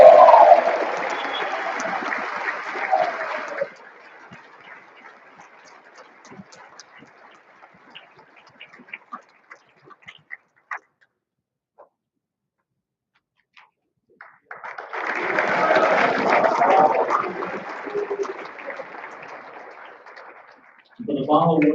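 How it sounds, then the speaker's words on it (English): An awards convocation audience applauds the junior counselors in a hall, a loud burst of clapping that fades into scattered claps and quiet, then a second swell of applause that builds and sustains before a brief voice at the end. "Ladies and gentlemen, please give me a round of applause for our very own junior counselors"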